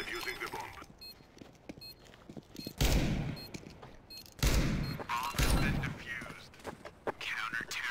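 Gunfire in the shooter game CS:GO: several loud, sharp blasts and bursts of shots at irregular intervals, with quieter clicks and game sounds between them and a voice talking at times.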